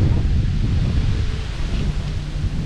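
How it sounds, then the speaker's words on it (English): Wind blowing at an outdoor car show at a motor museum, a steady low rumbling buffeting against the microphone that runs continuously throughout, with no talking. "That wind's picking up now."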